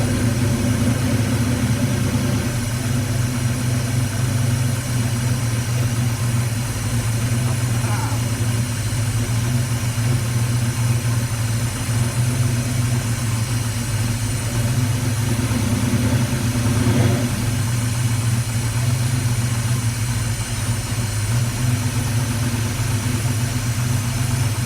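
A Dodge Challenger engine idles steadily after starting, a constant low rumbling drone that holds loud and even for the whole stretch, with its timing and throttle blades not yet adjusted.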